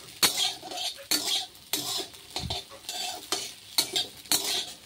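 Soybean chunks frying in a pan, stirred with a metal spatula in repeated scraping, clinking strokes about every half second over a soft sizzle, close and without talk.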